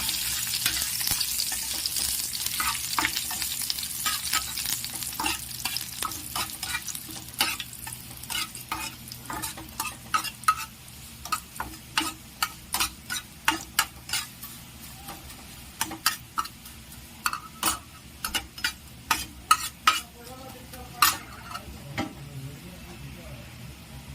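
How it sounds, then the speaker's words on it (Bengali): Curry leaves and peanuts fry in hot oil with a steady, crackling sizzle while a spatula stirs them. Sharp, ticking clicks from the pan grow more frequent and rhythmic toward the end, and a voice is faintly present. "কারিয়া পাতা, এগুলো একটু হালকা করে ভেজে নেব।"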